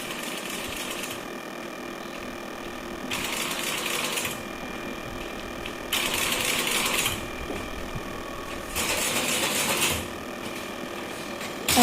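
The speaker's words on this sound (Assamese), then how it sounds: "এইটো ষ্টিচিং মেচিন, এয়া ষ্টিচিং কৰি আছে।" Sewing machine stitching fabric, close by, with a steady mechanical whir that starts and stops in repeated bursts of about one to two seconds, separated by quieter pauses.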